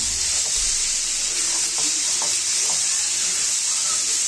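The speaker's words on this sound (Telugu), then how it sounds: "అందులోకి మనము ఆల్రెడీ కోసి పెట్టుకున్న మూడు పెద్ద టమాటా ముక్కలను కూడా వేసుకోవాలండి" Large tomato pieces drop into a pan of frying cucumber curry, raising a loud, steady sizzle and hiss with a few stirring scrapes, close up and with no talk.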